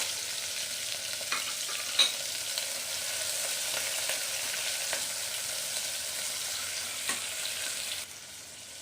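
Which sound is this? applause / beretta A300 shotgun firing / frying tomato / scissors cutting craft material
frying tomato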